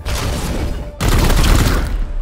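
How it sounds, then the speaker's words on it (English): Support fire in the video game Warhammer 40k: Chaos Gate - Daemonhunters, a loud, dense burst of gunfire, a continuous crackling fusillade that briefly drops out and then resumes even heavier. "Let's see how the support fire works."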